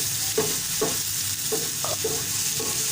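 An onion, tomato and green chilli masala cooks on a tawa for street-style anda bhurji, with a steady hissing sizzle broken by several rhythmic spatula scrapes close up.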